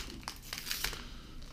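Foil wrapper of a Final Fantasy TCG Opus 1 booster pack crinkling and tearing open up close, with a few sharp crackly bursts over about a second and a half, no talking.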